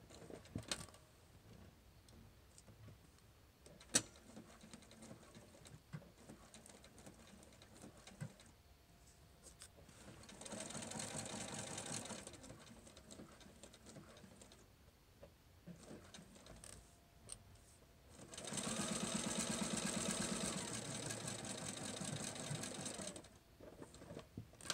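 A sewing machine stitches fabric and backstitches at the opening of a chest piece, in two distinct bursts of rapid whirring, one short and one longer, separated by quiet handling clicks and soft rustles.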